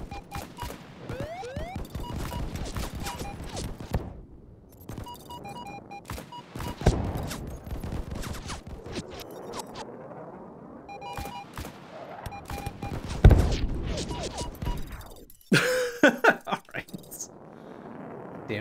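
Rapid bursts of weapon fire from a jet combat video game, missiles and cannon crackling in dense volleys throughout, with a louder crashing burst near the end and someone talking over it.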